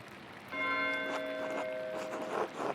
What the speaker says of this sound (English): Why is Matteo ringing the bell?